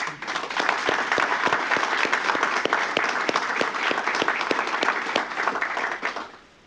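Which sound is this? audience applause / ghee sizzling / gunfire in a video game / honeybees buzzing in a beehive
audience applause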